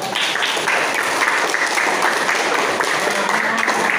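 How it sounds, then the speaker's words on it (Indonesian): A classroom of junior high school students bursts into dense, steady applause that continues without a break, with many hands clapping at once. "Ya, tepuk tangan buat semuanya."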